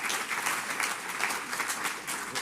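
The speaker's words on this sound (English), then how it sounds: "Let's have a round of applause for WaWa" Sustained applause from the audience at a mayor's press conference for the Wawa Welcome America festival, a dense, even patter of many hands clapping close by throughout.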